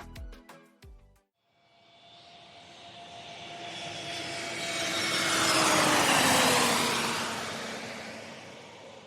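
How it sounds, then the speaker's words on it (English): After a few brief clicks, an airplane engine spools up to takeoff power, its roar swelling steadily to a loud sustained peak and then easing slightly. "Let's add takeoff power."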